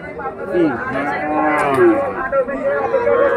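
Sahiwal and local heifer calves at the Ghoraghat Raniganj cattle market, several close, drawn-out moos with wavering pitch over a background of crowd chatter.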